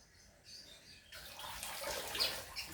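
A porous plant pot holding an Aglaonema is dipped into water, giving a soft, continuous bubbling and gurgling wash that swells after a quieter start and stays close and fairly faint.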